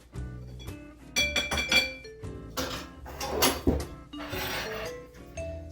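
A whisk clinks and rattles against a bowl while dry spices are mixed for a spicy chicken sandwich coating, giving close, irregular bursts of metallic taps and scrapes.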